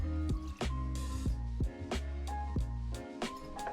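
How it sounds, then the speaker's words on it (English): Lime juice is poured into a cocktail shaker for a Mai Tai in a series of close, wet dripping and squishing sounds, soft and irregular with brief gaps. "Grab your shaker and pour 1 ounce or 30 ml of lime juice."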